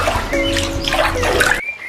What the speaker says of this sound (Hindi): राजा ये कहते हुए उस नदी में छलांग लगा देते हैं